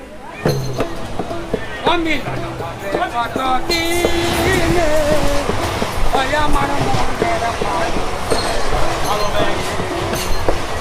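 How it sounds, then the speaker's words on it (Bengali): A train pulls out of Bolpur station with steady rolling rumble, rail clatter and squeals building throughout, close and loud, while people talk nearby. "বোলপুরে আমাদের ট্রেনের মাত্র দু মিনিট হল ছিল ট্রেন ছেড়ে দিয়েছে"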